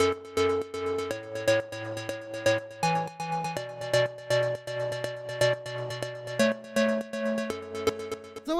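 A bright synth pluck in a melodic house style plays a chord progression of short, repeated plucked chords in a steady rhythm, changing harmony every second or so, clear and alone.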